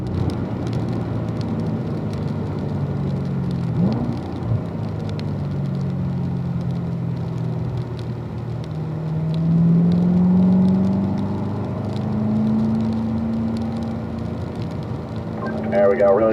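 A race car drives at speed on a track with a steady, droning engine and road noise that swells slightly along the straight, under an instructor's ongoing coaching voice.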